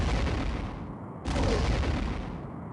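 Torpedo fire aimed at a Romulan warbird in the space game Star Trek: A Final Unity: a steady, rushing broadband roar that surges louder about halfway through and then holds, with no voices over it.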